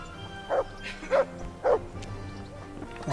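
A dog in the video game Kingdom Come Deliverance gives three evenly spaced, moderately loud barks over a quiet ambient background.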